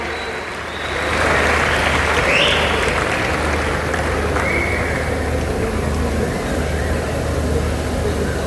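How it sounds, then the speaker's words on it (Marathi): Sustained audience applause honouring record-holding Marathi theatre actor Prashant Damle at a felicitation event, a dense steady wash of clapping that swells after the first second and continues evenly throughout. "मला वाटत नाही टाळ्या थांबल्या पाहिजेत."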